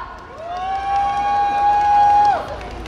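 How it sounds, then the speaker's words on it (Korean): A crowd at an outdoor citizens' campaign rally for a candidate at KT&G Sangsang Madang in Seoul cheers and claps to welcome a speaker, with one long, loud, piercing whistle rising above the noise and some voices mixed in. "이성훈님을 박수로 맞이하도록 하겠습니다"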